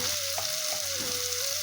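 Onion and cumin seeds fry in hot oil for a Bengali mustard tilapia curry, a loud, close, continuous sizzle running throughout with a steady tone beneath it and no talking.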